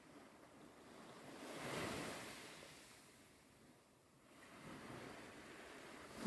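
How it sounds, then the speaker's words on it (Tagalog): Ocean waves rolling in and washing out, swelling twice to a soft roar and receding, with a steady breeze in the background. "Mga alon ang maririnig mo."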